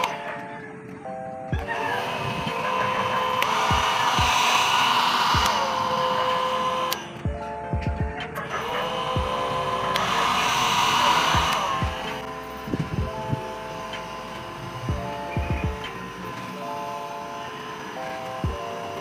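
A small hair dryer blows steadily with a loud, whirring rush of air, briefly cutting out once before running on again.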